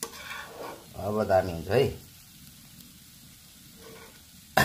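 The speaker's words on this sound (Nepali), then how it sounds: "नल्ली माछा फ्राई यस्तो भयो" Nalli fish fries in a pan with a soft, steady sizzle that continues quietly after a voice speaks briefly, ending with a short clatter.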